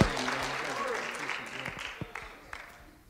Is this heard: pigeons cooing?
no